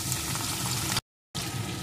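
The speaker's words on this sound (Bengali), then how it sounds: "এখন আমি এর ভিতরে দিয়ে দেব পেঁয়াজ কুচি।" Chopped onion goes into hot oil and fries with a steady bubbling sizzle, cut by a sudden brief silence before the frying resumes.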